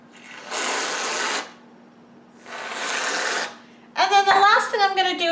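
Canned whipped cream sprays onto strawberry and cream cheese crepes in two hissing bursts about a second each, loud and close with a pause between, followed by a person talking.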